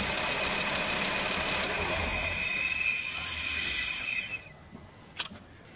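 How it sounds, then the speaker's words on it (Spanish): A Volkswagen Bora engine running steadily with a high whine, then switched off around the four-second mark, the hum fading away into near silence with a brief knock afterward. "vamos a apagar el motor"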